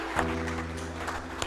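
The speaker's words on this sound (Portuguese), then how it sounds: "Dê uma salva de palmas para Jesus" Church congregation clapping for Jesus during a communion service, steady dense applause filling the room over a sustained low organ or keyboard tone.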